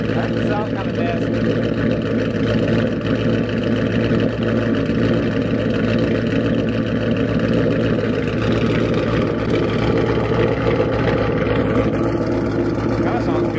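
A Ford Mustang engine fitted with a PMAS intake runs steadily, giving a continuous droning hum with a whooshing, turbo-like suction of air that holds without a break.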